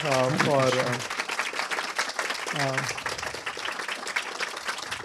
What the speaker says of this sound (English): let's give a big round of applause to His Grace Mukunda Datta Prabhu